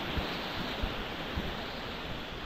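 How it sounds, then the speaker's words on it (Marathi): A strongly flowing stream at Naneghat after rain, heard as a loud, steady, unbroken rush of water close by. "जो वरचा पाण्याचा फ्लो आहे हा मोठ्या प्रमाणात आहे"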